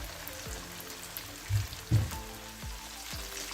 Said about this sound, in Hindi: इसे हम डीप फ्राई करेंगे ताकि अंदर से अच्छी तरह पक जाएं